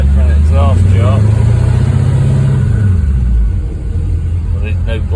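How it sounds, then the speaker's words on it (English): A 1963 Pontiac Star Chief with new glass-pack exhaust rumbles loudly and close while driving through town, its deep exhaust note rising in a rev and then settling lower as it eases off; someone talks over it. "I think she sounds pretty good"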